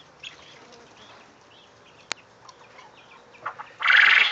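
Chickens on a farm with guinea hens and quail give sparse clucks and soft calls, faint and scattered, before a louder squawking burst near the end.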